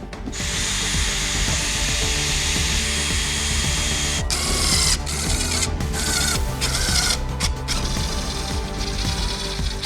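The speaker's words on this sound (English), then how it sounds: "When you are installing these bits of tech screws, just be mindful of what is behind the thing you're screwing into" Power drill driving tech screws into the bumper of a Mercedes-AMG A-Class, a loud close whine with short bursts and stops as the screws seat, alone and without talk.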